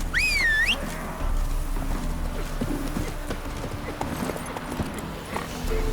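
Hooves of Roach, Geralt's horse in The Witcher 3 on Xbox, pound in a steady gallop from start to finish, opening with a high bird-like call and carrying over low, constant game ambience.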